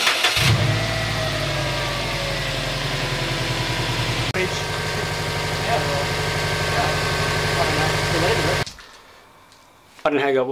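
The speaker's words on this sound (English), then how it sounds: "Start it up, give it some revs." A Subaru WRX (GD) engine cranks and catches, then runs loudly with steady revving for several seconds before cutting off abruptly near the end.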